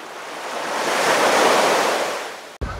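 Steady broadband roar of surf and strong wind at Llangrannog beach in Wales, swelling and easing, loud and continuous, with a brief gust thump near the end.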